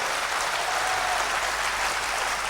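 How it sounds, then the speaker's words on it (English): Audience clapping in an indoor hall at a company event, a continuous dense wash of applause, loud and even from start to finish with no voices over it. "Come on, big clap."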